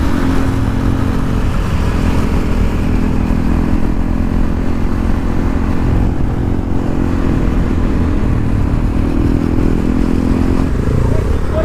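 A motorcycle is being ridden, its engine droning steadily and loudly close by for the whole stretch, with a low running rumble and wind noise under faint background voices.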